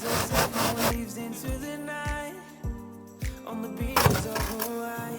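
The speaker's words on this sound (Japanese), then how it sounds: "縦方向のカットは1回丸ノコを通した後に手ノコでカットしていきました。" A hand saw cuts through a wall insulation board during a DIY home build. Close, rhythmic rasping strokes come in a quick series, then slow to a few separate pulls, with no speech.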